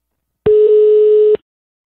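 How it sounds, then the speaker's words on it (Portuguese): Ringback tone of an outgoing telephone call, a single steady electronic beep of just under a second, clean and alone. "vou ligar pra Nete"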